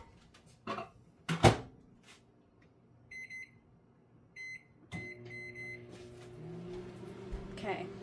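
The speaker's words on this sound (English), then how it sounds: "this is going to go in the microwave for a few seconds" A microwave oven heats bubble bath playdough: a door clunk and handling thumps, a few short electronic beeps, then the low steady hum of the running oven, with some faint talk.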